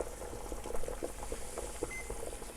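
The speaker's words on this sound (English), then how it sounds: "This is boiling hot water you have to be extremely careful with." Pretzels boiling two at a time in a pot of hot water give a steady, close bubbling and simmering that runs without a break, with no talk over it.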